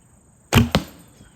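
Arrow loosed from a bow from a tree stand during practice: two sharp close thwacks a fraction of a second apart, the release and the arrow striking, then quiet.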